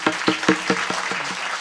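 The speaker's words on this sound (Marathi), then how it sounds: "एकदा टाळी वाजा मग सांगतो." Audience at a Marathi kirtan in Balapur, Sambhajinagar claps in a steady rhythmic beat, about five evenly spaced claps per second, over a sustained tonal drone that fades toward the end.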